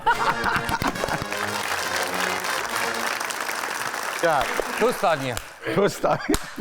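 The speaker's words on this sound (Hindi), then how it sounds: "तालियां बजाएं" Studio audience at a Hindi-Urdu comedy quiz show applauds steadily for a few seconds, then the clapping thins as voices and laughter break through near the end.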